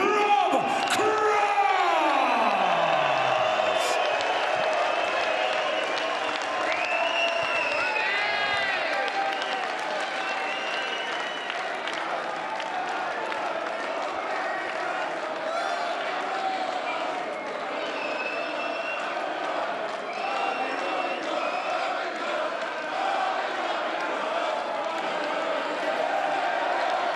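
A large arena crowd at the Brisbane Darts Masters roars with continuous applause and cheering for darts champion Rob Cross, loud and sustained throughout, with whistles and shouts rising over the clapping.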